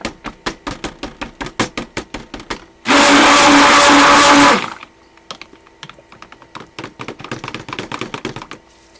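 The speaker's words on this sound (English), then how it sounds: "I got a lot of air in that stick blender." A stick blender whirs loudly for about two seconds, with sharp tapping or clicking before and after it.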